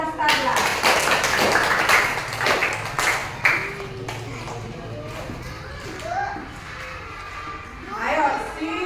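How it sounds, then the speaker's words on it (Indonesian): Primary school children clap together in a classroom, a burst of sharp hand claps in the first few seconds fading into scattered chatter and a teacher's voice. "Tepuk tangan buat Clarissa dan Stella."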